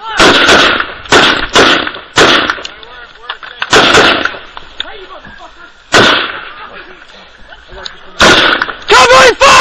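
Heavy gunfire from an ambush in Afghanistan: repeated loud bursts and cracks of rifle fire in irregular volleys, some close and sharp, with shouting voices between and over the shots.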